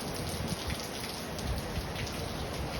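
Rain falling in Wacol during a cyclone, a steady dense hiss of drops hitting surfaces, close and even throughout with no voices.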